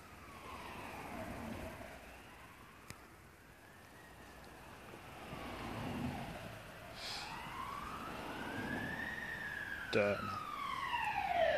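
Paramedic ambulance siren passing on a street, a wailing tone rising and falling in slow sweeps, growing closer and louder toward the end, with someone talking briefly over it.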